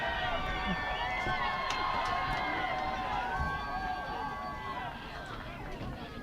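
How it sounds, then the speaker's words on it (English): Blue Devils fans cheer and roar at a varsity high school football game, a steady, dense crowd din with scattered whistles and shouts that eases slightly toward the end. "First time I've heard the crowd of the Devils."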